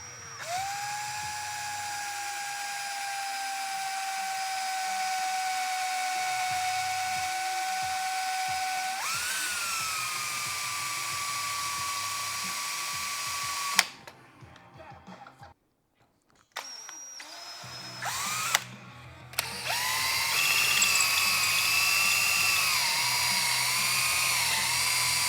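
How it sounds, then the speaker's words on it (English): A power drill whines steadily while boring holes in a thick fender eliminator for a 2022 Honda Grom. The pitch holds for long runs, shifts once midway, then cuts out briefly and restarts loud and close. "So I'm going to drill the holes to line up the controls"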